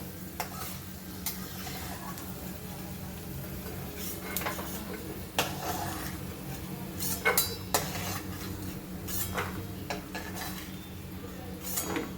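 Peanuts fried in a little oil are scooped from a pan onto a plate, with a low steady sizzle under repeated spoon scrapes and light metallic clinks against the cookware, close and without speech.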